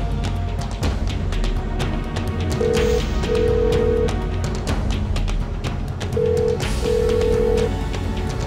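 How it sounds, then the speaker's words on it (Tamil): Telephone ringback tone during a call in a Tamil television serial: two paired bursts of steady tone, a few seconds apart, heard over a dense background bed with no talking. "ஒரு நிமிஷம் இருக்கு சார், நான் உடனே ஃபோன் பண்ணி பார்க்குறேன்."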